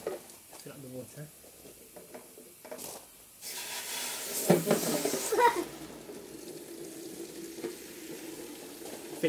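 Water runs into a watering can in a steady rushing pour for a couple of seconds, with voices and handling noises around it.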